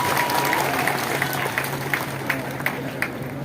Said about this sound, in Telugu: మీ అందరూ ఒకసారి గట్టిగా మీకు చప్పట్లు కొట్టుకుంటారా?